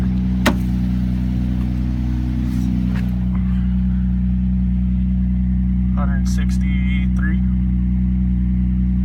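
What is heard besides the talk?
1993 Ford Ranger 4-liter engine running after cold start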